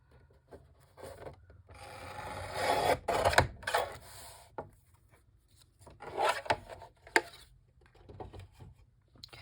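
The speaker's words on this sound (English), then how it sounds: "I think I'm going to cut it at like 5 inches. Let's get my trimmer here." A trimmer cuts a piece down to about five inches, giving two short bursts of close scraping and slicing with quiet handling taps between them and no talk.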